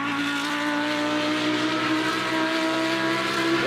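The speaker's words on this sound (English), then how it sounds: "Sound of that car is the nuts." A race car engine in the Le Mans Ultimate sim racing game drones at steady high revs, a buzzing, harmonic-rich tone held evenly throughout, moderately loud with no talk over it.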